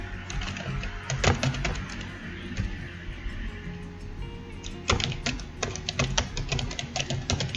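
Computer keyboard typing in two bursts of quick, irregular clicks, a short run early and a denser flurry near the end, over a steady low room hum.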